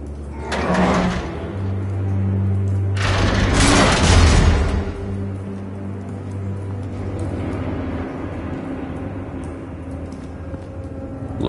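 Explosion in the Batman Telltale Series game: two heavy booming blasts with rushing noise about three seconds apart, followed by a low sustained rumble and ambient hum, no talking.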